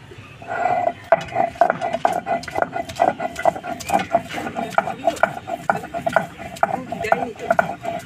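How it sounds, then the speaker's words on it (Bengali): Ginger being ground, a rapid rhythmic series of knocks and scraping strokes, close and fairly loud, with a faint tonal ring under the repeated impacts and a voice murmuring in the background. "আদাটা বেটে নেব।"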